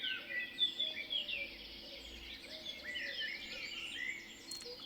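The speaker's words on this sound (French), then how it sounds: "Sinon, je vais devoir couper les petits oiseaux hein," Small birds chirp and tweet steadily in the background during a French live stream, a continuous scatter of faint, high calls over a quiet room with no voices.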